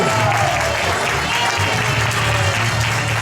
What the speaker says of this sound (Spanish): Fuerte aplauso para Perú.